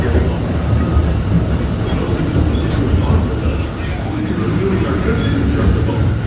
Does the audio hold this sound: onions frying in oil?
no